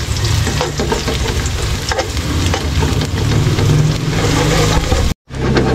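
Garlic and onion frying in oil until golden brown, a dense, steady sizzle with stirring scrapes that stays loud and close throughout, then cuts out abruptly near the end.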